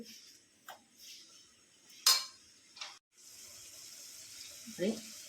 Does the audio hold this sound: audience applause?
no